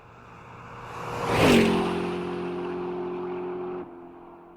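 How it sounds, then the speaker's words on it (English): A car rushes by close, its engine swelling to a peak then dropping in pitch, followed by a steady hum that cuts off. "A car zooms past you."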